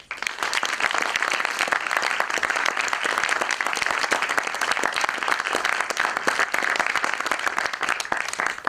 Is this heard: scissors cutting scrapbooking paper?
no